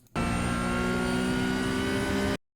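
A Porsche GT3 Cup 992.1 engine in iRacing holds full throttle at Donington Park, a loud steady close-up drone that starts abruptly and cuts off after about two seconds.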